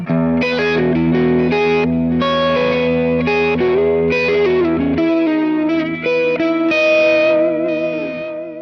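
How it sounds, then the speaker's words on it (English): A distorted electric guitar played through a Dr Z Z-Lux 3 amp profile on a Kemper, loud and continuous, with sustained chords and single-note lines washed in reverb. "Z-Lux 3, a little dirtier."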